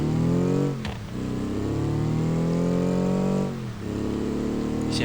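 A larger car in BeamNG.drive accelerates hard, its engine note climbing through the gears with two brief dips at shifts, loud and close with no talk.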